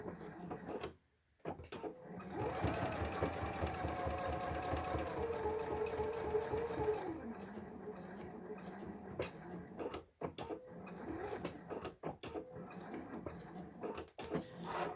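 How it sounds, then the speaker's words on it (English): A sewing machine stitches a straight line across a fabric wristlet at a 3 stitch length, running steadily at close range for about five seconds, with brief stops and handling noises before and after. "going to stitch up this line that we just drew"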